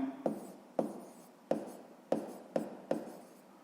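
A hand writes out a maths step for a sixth-grade exercise, about seven short, crisp strokes in an even rhythm, close and alone.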